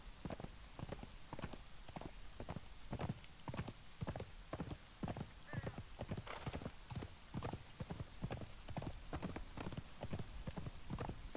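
Horse hooves clip-clop at a steady trotting rhythm as a mount crosses ridge terrain in the Conan Exiles video game, a long run of evenly spaced, fairly close beats over a soft rain-like hiss.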